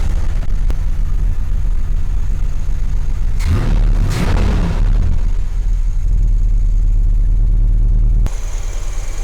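A Corvette C3 engine idles smoothly up close, a constant low rumble interrupted by a brief louder burst of revving in the middle before settling back to a steady hum.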